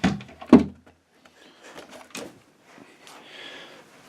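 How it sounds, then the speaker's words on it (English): Wooden drawer pulled out of a closet unit during an 1890s timber frame house renovation, a sharp wooden knock and slide near the start followed by softer scraping and handling sounds. "I'm going to take this drawer out, if I can do it with one hand"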